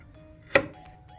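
A single sharp knife chop cuts through a potato on a cutting board, crisp and close, with quiet room tone before and after.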